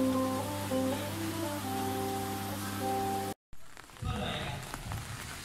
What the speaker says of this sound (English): it's raining heavily since evening